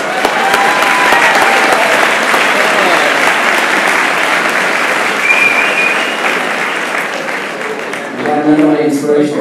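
Loud, dense applause fills a commencement ceremony hall, fading slightly near the end as a voice begins speaking over it.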